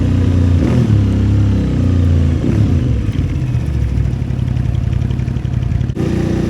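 A Japanese V-twin superbike engine revving, loud and close, with rising and falling pitch sweeps over a rough idle and a sudden drop near the end.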